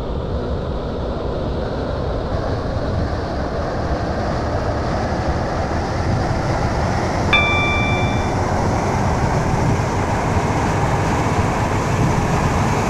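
Class 730 train running in Roblox SCR on a Waterline service, a steady rumbling drive with a continuous hiss throughout, plus a brief high tonal ding partway through.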